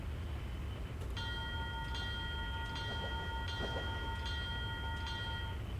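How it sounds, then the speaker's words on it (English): A Baldwin locomotive's bell rings steadily in a repeating clang, about six strikes at an even pace, heard from the cab over a loud constant low rumble of the running engine. "That's our bell."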